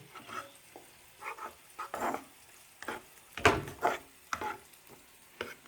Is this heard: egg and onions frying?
yes